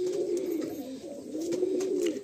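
Pigeons offered for sale coo steadily and close by, a low rolling murmur that swells and dips without pause and with no talk over it.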